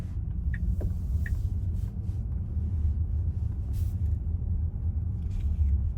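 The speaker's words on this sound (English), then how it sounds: "hear the noise when I speed up the car, and the noise from outside the car" Cabin of a Tesla Model Y Launch Series accelerating, a steady low road and motor rumble filling the interior at moderate level throughout, with a few faint brief outside sounds on top and no talking.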